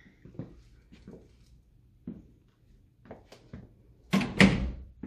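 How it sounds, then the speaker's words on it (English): A car door slammed shut, one firm heavy thud near the end that follows a few faint scattered clicks and knocks, close by with no talk. "Go ahead. Shut the door."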